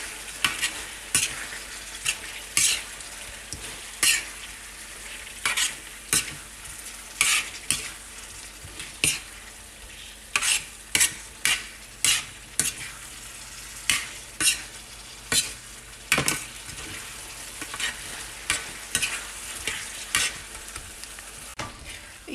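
Tawa beef with freshly crushed black pepper is stirred in a pan, a steady sizzle broken by repeated sharp scraping strokes of a spatula at a brisk, uneven rhythm, close and clear with no voices.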